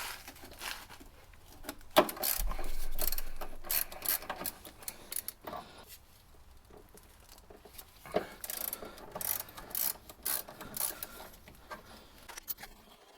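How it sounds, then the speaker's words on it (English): A ratchet loosening 17mm strut bolts on a 2020 Toyota Corolla LE 1.8L, heard as close, brisk bursts of clicking separated by short pauses and small metallic handling noises. "now it's time to remove the 17mm bolts."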